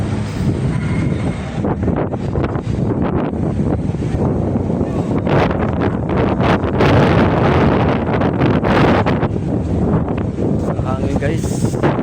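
Strong wind buffets the microphone outdoors near a busy shopping-mall entrance with passing vehicles, a steady loud rumbling roar throughout, with a person speaking over it.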